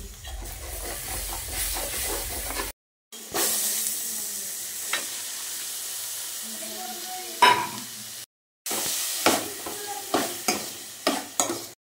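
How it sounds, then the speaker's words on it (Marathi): Cumin seeds fry and crackle in hot oil for misal pav, a soft sizzle with stirring scrapes and intermittent louder pops, broken by two short silences. "तेल, जिरं तेलावर थोडंसं फुलू द्यायचं"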